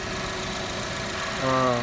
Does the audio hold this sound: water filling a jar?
no